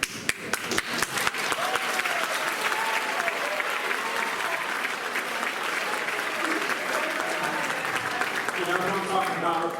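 Audience applause at a spring band concert, sharp close claps at the start swelling into sustained dense clapping from a crowd, with some voices mixed in.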